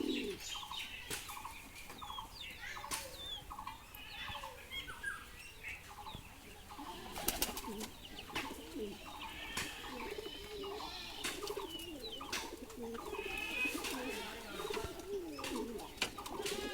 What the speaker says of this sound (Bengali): দেখেন আমাদের রেসার কবুতরের ডাক